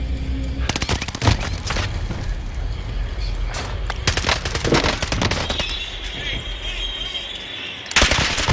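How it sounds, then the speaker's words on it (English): Rapid machine-gun bursts and crackling gunfire from Call of Duty Warzone on Rebirth Island, loud and dense with sharp volleys and booms throughout, layered under in-game voices. "I'm taking fire!"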